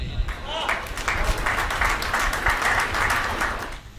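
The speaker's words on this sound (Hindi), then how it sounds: "गलत जगह ताली बजाई है आपने" An audience at a live comedy storytelling show claps together, building after a short spoken moment and holding steady for several seconds before fading. A performer's voice keeps talking over the applause.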